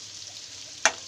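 Chicken gizzards coated in chilli powder and turmeric fry in hot oil, giving a steady close sizzle with one sharp spatter or stir about three-quarters of the way through, no talking.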